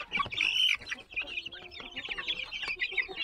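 Heritage-breed laying chickens about a month old cluck and chirp in a steady, busy chorus close by, with repeated short calls layered over one another and no speech.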